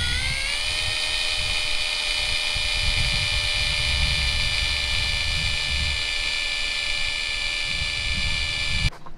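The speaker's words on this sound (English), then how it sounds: "what you wanna do is spin the drill" Power drill spinning to twist and coil lengths of wire during an RV repair, a loud high whine that ramps up at the start, holds steady for several seconds, then cuts off abruptly.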